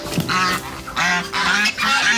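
Geese honk loudly and close up in a quick run of harsh, nasal calls, about four overlapping blasts in two seconds.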